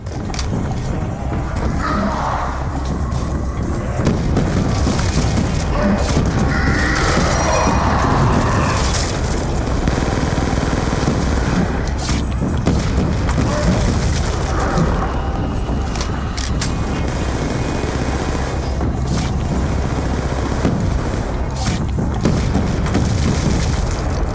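Loud, dense game combat from Call of Duty with repeated booming double-barreled shotgun blasts amid continuous explosive noise and rumble, close and sustained throughout with no clear gaps.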